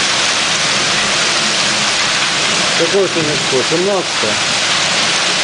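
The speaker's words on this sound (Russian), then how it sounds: "Ты посмотри, какой град" Summer hailstorm in Kharkiv in July, a loud, dense, unbroken hiss and clatter of hailstones pouring down close by, with people talking briefly over it.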